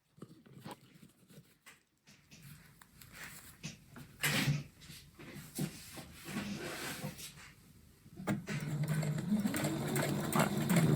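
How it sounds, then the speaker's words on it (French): Sewing machine stitching a straight seam along fabric piping, a steady close mechanical whirring hum with brief stops and restarts, growing louder and continuous toward the end. "je couds tout le long du boudin comme ça jusqu'à la fin"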